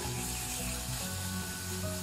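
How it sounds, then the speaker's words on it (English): Garlic paste sautéing with brinjal pieces in a pan gives a steady, even sizzle that runs unbroken throughout, with no voices. "Saute the brinjal pieces for about 3 minutes, and then add the garlic paste,"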